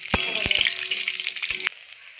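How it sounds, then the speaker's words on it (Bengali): Bay leaf, cumin and a few green chillies hit hot oil as a tempering for a puti fish curry, giving a brief, bright crackling sizzle with a few sharp spoon taps. "আমি ফোড়নে দিয়ে দিচ্ছি তেজপাতা জিরে আর কয়েকটা কাঁচা লঙ্কা"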